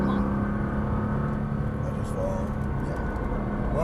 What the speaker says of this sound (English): Squeeze that throttle down. All the way down.